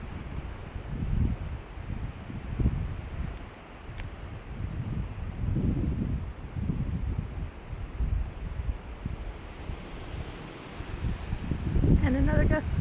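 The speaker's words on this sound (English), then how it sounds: "Watching the leaves is my favorite part, because they blow around and around and up instead of down." Strong autumn windstorm gusts roar through front-yard trees, tossing leaves around; broad rushing noise swells and fades in repeated bursts with low microphone buffeting throughout.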